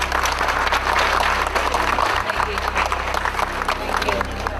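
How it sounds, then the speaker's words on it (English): An audience at a formal gathering in the Philippines breaks into dense, continuous applause that fills the whole stretch, with crowd noise and a low background hum beneath it. "Please give her a big round of applause."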